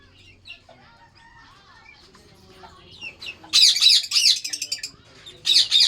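Shrill, harsh squawks from birds nearby, coming in loud bursts after quieter chirps and rustling at the start.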